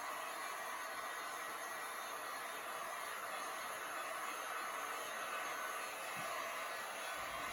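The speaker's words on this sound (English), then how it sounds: "you see me using a heat gun. That is a heat gun." A heat gun blows on fluid art paint with a steady, broadband rushing hiss that stays constant and close.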